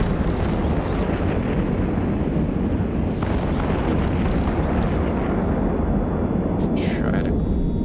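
Weapon fire and explosions rumble continuously in Eve Online space combat, a thick, steady wash of booming blasts and roaring noise with a brief whooshing sweep near the end, loud throughout.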